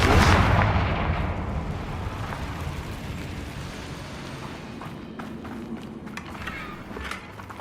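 Confringo fire spell blast in Hogwarts Legacy: a loud booming explosion at the start that decays into a long rumbling tail, followed by scattered light footsteps and small impacts.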